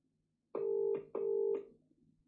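A Vodafone mobile call rings out over speakerphone: two loud, close double-burst ringback tones, then quiet.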